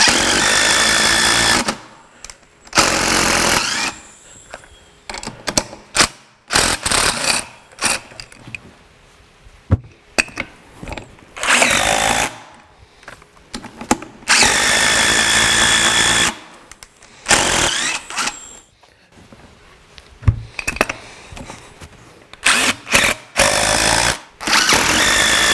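A BeadBuster XB-452 tool breaking a tire's bead off the wheel: loud, harsh impact-driver hammering in repeated bursts of a second or two, separated by short pauses, close and alone.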